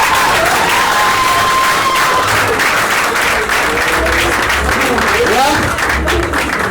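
Dense, sustained applause from a large crowd at a stand-up comedy show, steady throughout with scattered cheers and voices mixed into the clapping.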